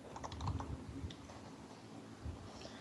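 Someone typing on a computer keyboard, a faint quick cluster of key clicks at first, then scattered taps with pauses, soft and close in a quiet room.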